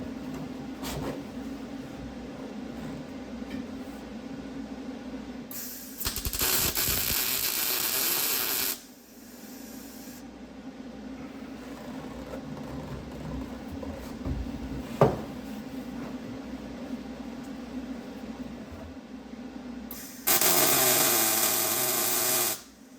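MIG welder tacking the roll cage into a 1973 Camaro pro-touring build, giving two loud, steady bursts of crackling hiss lasting a few seconds each, with quieter shop noise and clatter between them.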